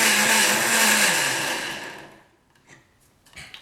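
A blender fitted with a Mason jar adapter whirs loudly while blending an apple and pear smoothie sauce, then winds down and stops, leaving a few faint clicks.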